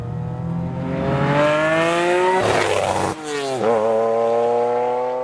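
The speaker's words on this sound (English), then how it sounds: "You get a little bit of supercharger whine back there." A Toyota MR2 fitted with a Lotus-supercharged 2GR V6 revs hard and close, its pitch climbing steadily under a thin supercharger whine. It shifts once and then climbs again, loud and alone.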